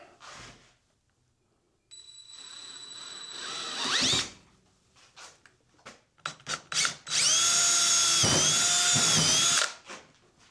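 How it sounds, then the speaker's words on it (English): A power drill whines up to speed in short bursts, then runs in a long, loud sustained spin before stopping, drilling through the center of a piece. "Now to try and drill right through the center."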